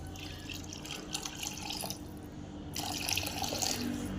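Water is poured from a tap or vessel into wheat flour with salt while mixing chapati dough in a home kitchen, a soft, close trickling stream with brief pauses and drips.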